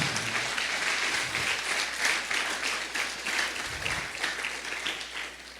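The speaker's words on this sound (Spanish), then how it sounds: "Dele un aplauso fuerte al Señor." Church congregation applauding the Lord during a sermon, a steady wash of many hands clapping together for several seconds, fairly loud and continuous with faint murmuring underneath.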